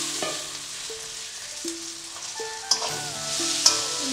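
Spices with turmeric frying in a pan for a small hilsa fish curry, a soft background sizzle with a few sharp stirring clinks and scrapes, while a faint steady tone sits under the sizzle, with no talking.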